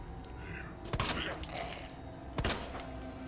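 Two sharp gunshots, roughly a second and a half apart, fired at zombies in the Resident Evil 2 video game, standing out over quieter game ambience.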